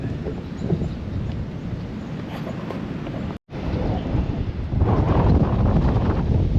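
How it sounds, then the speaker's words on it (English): Strong outdoor wind roars and buffets the microphone in a constant, loud rush with an abrupt dropout midway, then a heavier gust that pushes louder toward the end. "this is the wind we're having"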